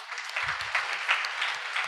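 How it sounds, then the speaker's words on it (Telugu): Church congregation applauding during an Easter sermon, a soft, fairly distant wash of clapping that stays steady throughout with a few brief low murmurs beneath it. "ఒకసారి చప్పట్లు కొడదామా?"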